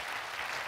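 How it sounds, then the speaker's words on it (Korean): Church congregation clapping in thanks for a choir soloist, a brief burst of dense, steady applause filling the sanctuary with no voices on top. "다시 한번 감사의 박수를 드립니다."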